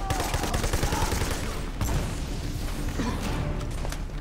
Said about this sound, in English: you just start getting shot at from every which way